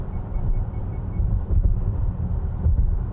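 A 2024 Subaru Solterra Touring AWD cruises along a road, its cabin filled with a low, steady rumble of tyre and road noise, while a faint chime repeats briefly at the start.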